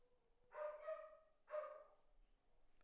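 Dogs at home give two quick, faint barks and then a third, quiet and somewhat distant, with no talk over them.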